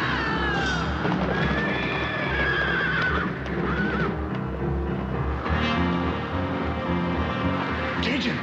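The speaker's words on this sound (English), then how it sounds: "The horses are loose." Loose horses spooked by thunder whinny loudly and repeatedly over a heavy, continuous drumming of galloping hooves, with a rumbling low background in an old Western television scene.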